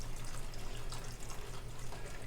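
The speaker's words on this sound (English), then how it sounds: "I'm going to pour the slurry in." Liquid slurry pouring and running into a pot of cooking cream corn as it is stirred, a steady close wet trickle with no voices.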